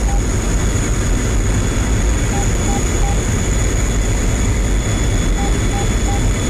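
Aircraft engine roar in the DCS World flight simulator after takeoff, a steady loud drone with a high whine that holds unchanged throughout, with no talk over it.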